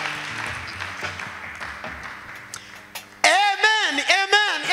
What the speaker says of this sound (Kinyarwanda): Mureke tuyikomera amashyi.